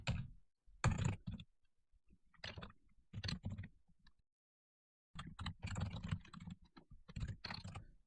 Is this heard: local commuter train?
no